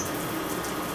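Water running steadily from a tap while arms are rinsed during a surgical-style hand scrub, a constant close hiss of flowing water with no talking.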